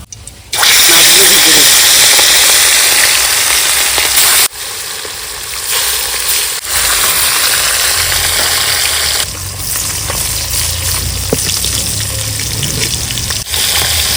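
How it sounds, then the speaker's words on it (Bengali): Rohu fish pieces, rubbed with turmeric, salt and chili powder, fry in hot oil in a kadai, giving a loud steady sizzle and hiss that runs throughout with small shifts in intensity. "মাছগুলো লাল লাল করে ভেজে নেব।"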